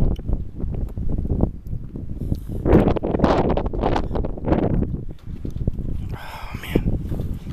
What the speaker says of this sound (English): see the wind's out here? Probably about 16 miles an hour.